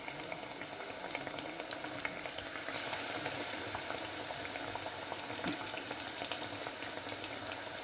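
Banana fritters (pazhampori) deep-frying in hot oil, a dense, continuous bubbling sizzle with scattered crackles and pops, close and steady throughout.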